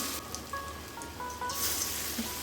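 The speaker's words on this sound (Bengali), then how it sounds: "তো এখানে আমি এক এক করে বড়াগুলো গোল শেপ করে আমি সবগুলো বড়াগুলো দিয়ে দিচ্ছি" Raw papaya fritters frying in shallow oil, a steady soft crackling sizzle throughout at low level, with faint tonal kitchen background.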